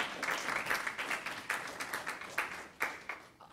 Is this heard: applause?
yes